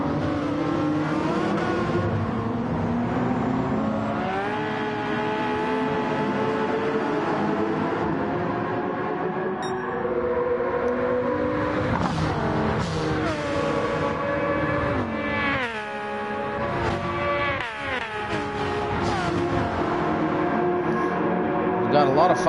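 Race cars from 90's vintage Le Mans endurance racing in Gran Turismo 7 at full throttle, dense overlapping engine whine and revving with gear changes, loud and continuous, with commentary spoken over it.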